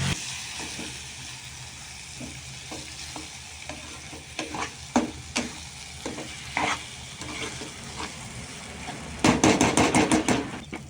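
Ingredients for mango rice are stirred and fried in oil in a pan, with a continuous sizzle under repeated scraping strokes of a spoon, ending in a quick burst of rapid stirring.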